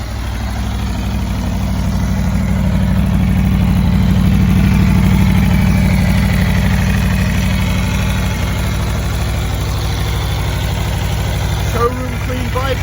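A 2021 Aprilia RSV4 Factory Edition motorcycle idling, a loud steady low engine drone with a faint pulsing rhythm, holding evenly close by, briefly blipping near the end.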